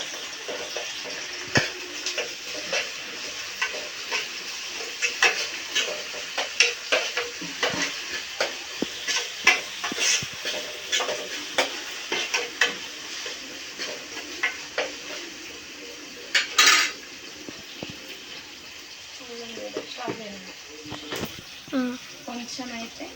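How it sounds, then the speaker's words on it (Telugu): Spice paste frying in oil for fish curry, a crackling sizzle with frequent utensil clicks and scrapes against the pot, and a voice speaking briefly near the end. "ఈ పేస్ట్ కూడా నూనెలో వేస్తాను."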